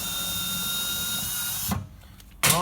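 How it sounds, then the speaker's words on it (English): A power drill boring a hole to mount a Kaon rear door table, a steady close whine that cuts off, then starts again briefly at the end. "I'm going to drill the hole at the other end"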